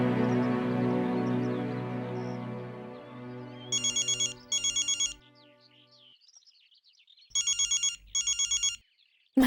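A telephone rings in a dramatic TV series scene. Sustained music fades out, then four loud electronic ring bursts sound in two pairs, separated by a short silence.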